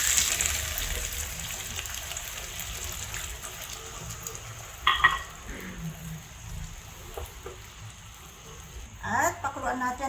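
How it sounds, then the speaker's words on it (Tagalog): Water is poured into a pot of simmering pork menudo, a Filipino stew, making a broad rushing gush that is strongest at first and then settles into a softer bubbling wash, with a few clinks near the end. "Lalagyan na natin ng tubig para mas lumambot pa yung ating"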